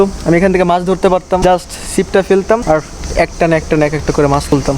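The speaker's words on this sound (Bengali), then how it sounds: "দিনের বেলাও আমি ঝিঝি পোকার ডাক শুনতে পাচ্ছি।" Crickets chirp by a lake at midday at a quiet waterfront resort in Gazipur, a faint steady trill sitting under a person talking throughout.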